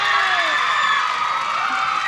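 Game-show studio audience cheering and whooping in approval of the answer blender, a broad sustained crowd roar with no clear talk.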